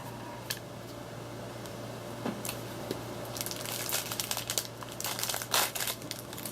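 Foil wrapper of a Magic: the Gathering Zendikar Rising booster pack crinkling and tearing close by as it is unboxed, soft handling rustles that build into denser crackles over steady low background hum.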